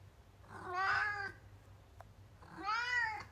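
A tabby cat meows twice up close, two drawn-out, rising-and-falling cries separated by a short pause, with a faint low hum underneath and no talking.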